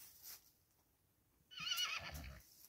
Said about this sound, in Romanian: văd că acest cal mănâncă prune după jos